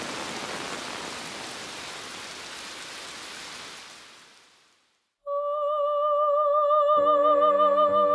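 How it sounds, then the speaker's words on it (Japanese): Heavy rain falls in a steady broadband rush that fades away after a few seconds, followed by silence and then sustained tonal musical notes. "もっとすごい雨やった。"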